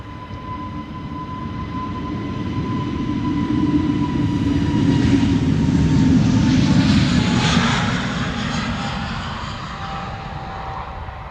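An Airbus A320neo takes off from Amsterdam Schiphol, a loud jet roar that swells to a peak mid-way and then fades as it climbs away, with a steady whine tone riding over the broad rumble.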